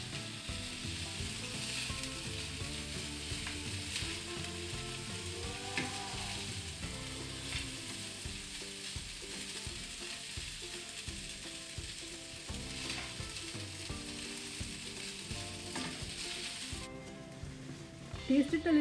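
Rice vermicelli upma with roasted cashews is stirred in a pan, giving a steady, close sizzle with soft scraping and shuffling that runs throughout.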